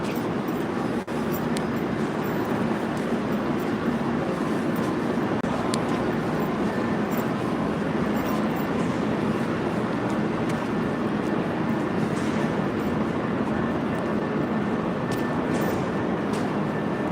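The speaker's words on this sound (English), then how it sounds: "Oh, train to Providence." A train bound for Providence at Boston's South Station, producing a continuous loud rumbling drone with faint squeals and clatter layered over it, steady and close for the whole stretch.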